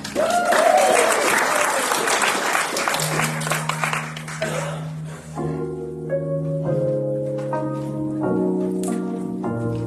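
Church congregation clapping to welcome guests at a Sunday celebration service, loud dense applause for about four seconds that fades as sustained organ or keyboard chords and music take over.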